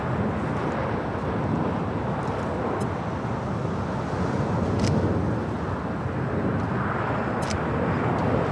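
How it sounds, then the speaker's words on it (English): An EVA Air Boeing 777-300ER bound for Taipei pushes back from the Tom Bradley terminal at LAX, a loud, steady jet roar with a windy rumble that holds unbroken throughout, with no voices. "Eva Air 777 now pushing it back."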